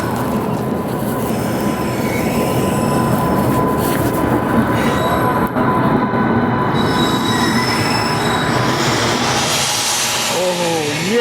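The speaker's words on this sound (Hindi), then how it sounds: "और यहाँ पे आ गई कन्याकुमारी बाउंड विवेक एक्सप्रेस।" Kanyakumari-bound Vivek Express passing close by on an Indian railway line, steady loud rumble of wheels on rails with sustained high metallic wheel squeal throughout.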